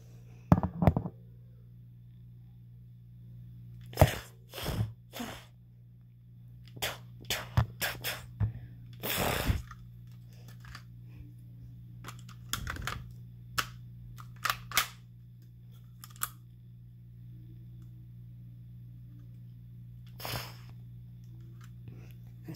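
A Lego AS-VAL rifle model being fired, giving sharp snapping clicks and bursts in irregular clusters over a low steady hum, close and moderately loud, with a few quiet gaps between shots.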